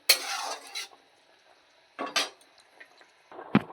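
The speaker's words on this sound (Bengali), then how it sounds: "এবার আমি পনির কটা দিয়ে দেবো ভেতরে পনির দিয়ে একটু নাড়াচাড়া করবো" Paneer pieces are stirred into a simmering curry, with two bursts of scraping and clatter from a utensil in the pan separated by quiet pauses, then a short sharp knock at the end.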